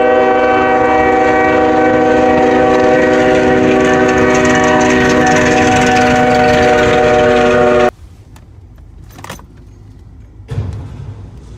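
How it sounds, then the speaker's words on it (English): A fast-moving train blares a long, loud horn as it bears down on a truck stuck on the tracks, then the horn cuts off abruptly, leaving quieter rumbling and a few sharp bangs from the collision. "This truck remained stuck on the tracks as a fast-moving train approached, and moments later, the collision tore it apart"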